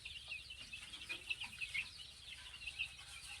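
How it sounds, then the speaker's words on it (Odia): Ten-day-old native and Banaraj chicks on a poultry farm peep in a continuous flock chorus of high, overlapping chirps, moderately loud and close, with no talking. "ଏହା ଆଜିର 10 ଦିନର କୁକୁଡ଼ା ଚିଆଁ ଆପଣଙ୍କୁ ଦେଖିଲି, 10ରୁ 12 ଦିନ ବନରାଜ ଚିଆଁ ଆଉ ଦେଶୀ କୁକୁଡ଼ା"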